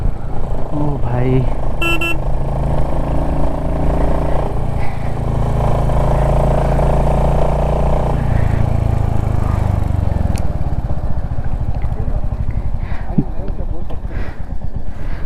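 A motorcycle engine idles and runs steadily on a high mountain route, a loud continuous low rumble with a brief horn-like tone early on, while people talk over it.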